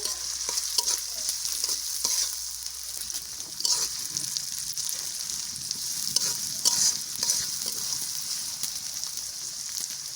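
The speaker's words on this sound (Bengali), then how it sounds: "এখন আমি পেঁয়াজ কুচি দিয়ে দেব পরিমাণ মতো এখন নেড়ে ছেড়ে দেবো" Chopped onions stirred into boiled beef frying in a pot over low heat: a constant soft sizzle with intermittent scraping stirs, fairly quiet and close.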